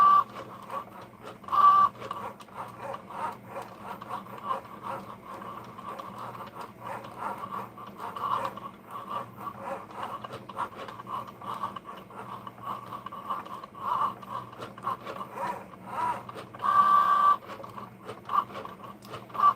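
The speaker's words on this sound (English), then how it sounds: "It's so cool that this machine can draw for us" Cricut Joy cutting machine drawing on a card, a steady mechanical whir with a tonal hum and soft rhythmic ticks as the pen carriage moves, close and continuous throughout.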